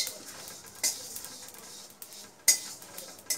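Panch phoron five-spice and three dried red chillies dry-roasting in an empty pan, with a few sharp metallic clinks and scrapes of a utensil against the pan over a faint, steady background hiss.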